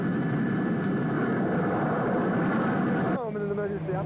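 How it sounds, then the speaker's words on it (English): A jet takes off in an arcade flight simulator, a loud, steady engine roar that holds for about three seconds, then drops to a lower warbling tone. "your jet takes off, launching you into virtual airspace."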